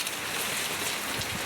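Rain falls steadily on surfaces, a soft, even hiss with no voices, fairly faint throughout.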